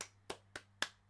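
Five sharp hand claps in an even, slightly quick rhythm, fairly quiet and alone.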